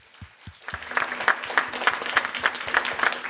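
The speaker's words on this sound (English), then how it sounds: "I just want to give a big round of applause to our panelists." An audience applauding panelists at an education event, a couple of lone claps swelling into a steady, dense round of clapping in a room.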